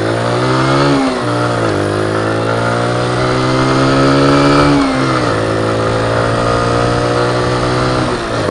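A Verve Moto 125 Classic S 125cc motorcycle engine revs steadily, its pitch climbing and dropping in a few repeated surges, loud and close throughout.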